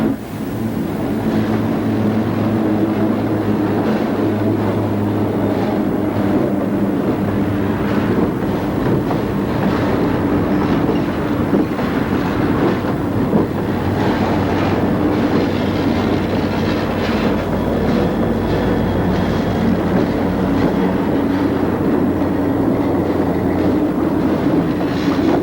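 A freight train rolls past loudly and continuously, with a steady rumble and rhythmic clatter of wheels on rails, close by and unbroken throughout.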